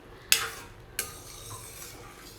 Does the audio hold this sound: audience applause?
no